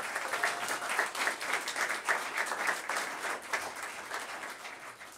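Audience applause at a school board meeting: steady clapping from a crowd, heard fairly faint and somewhat distant, continuing evenly for several seconds.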